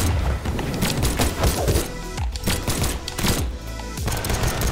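Rapid gunfire in a first-person shooter game cracks out in dense bursts with booming low thumps, loud and close, broken by a couple of brief pauses.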